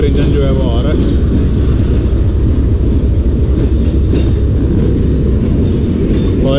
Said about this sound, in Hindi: टैंकर इंजन जो है वो आ रहा है।